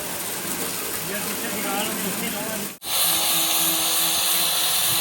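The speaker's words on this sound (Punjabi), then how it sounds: "ਆਪਾਂ ਗ੍ਰਾਈਂਡਰ ਦੇ ਨਾਲ ਰੇਗਮਰ ਮਾਰਨਾ ਕਰ ਦਿੱਤਾ ਸ਼ੁਰੂ" A loud, steady whirring grinder runs continuously, cutting out briefly partway before starting again with a high-pitched hum.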